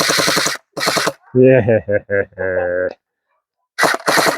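A gel blaster toy gun fires in rapid buzzing bursts, up close and loud, with a short spoken exclamation between the volleys.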